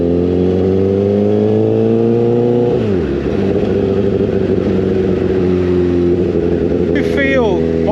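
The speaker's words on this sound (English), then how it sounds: "The Honda Fireblade is fast." A Honda CBR 1000 Fireblade sportbike engine revs up loud and close, its pitch climbing steadily, then dropping through a gear change and rising again, with a brief rising whine near the end.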